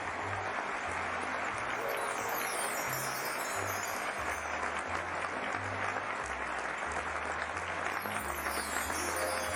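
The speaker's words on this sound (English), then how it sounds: "An applause for Sheepa." Steady applause sound effect in Microsoft Flight Simulator, dense continuous clapping at an even level, with a low rhythmic tone pulsing underneath.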